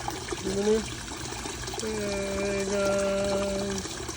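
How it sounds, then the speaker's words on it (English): Water pours steadily through a polyester filter back into an aquaponic tank, trickling continuously at close range under a droning tonal background hum. "run the water into it. The water now is kind of gonna be filtered through polyester back into the tank"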